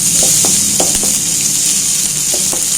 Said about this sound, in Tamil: வெங்காயத்தை நல்லா வறுத்து விட்டுட்டு